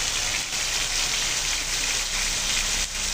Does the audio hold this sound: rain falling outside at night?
yes